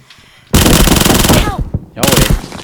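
Sustained automatic machine gun fire from a shooting video game, loud and continuous bursts for about a second, a short gap, then another burst; no voices over it.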